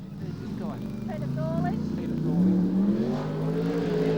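A sprintcar at Archerfield Speedway during a 2000/01 Queensland Summer Shootout race roars down the main straight, its engine note rising and swelling loudly under a commentator talking over the track noise.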